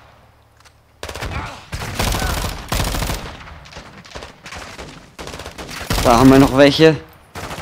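Call of Duty Modern Warfare 2 gunfire in a Las Almas mission: loud, rapid automatic bursts in repeated volleys, close and punchy, with someone speaking German between and over the shots.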